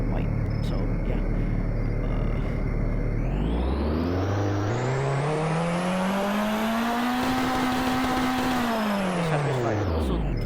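A Mitsubishi Evo engine revving up from idle, holding high revs and easing back down, loud and close, with a harsh, uneven edge from a misfire.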